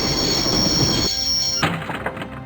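A train grinds to a stop in Broken Sword, with loud metallic screeching of wheels on rails, a sudden drop in the roar, then fading clanks and rumble as the carriages settle.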